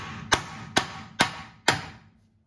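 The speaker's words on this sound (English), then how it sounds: "I use a big punch and there's a nice convenient spot there and give it a tap" Four sharp metallic taps of a big punch against a Toyota Tundra 4x4 front driveshaft flange, evenly spaced about half a second apart, close and fairly loud with short ringing decay.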